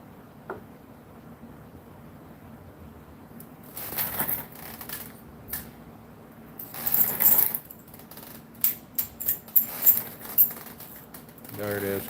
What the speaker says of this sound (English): Using that skid to wedge my wrench.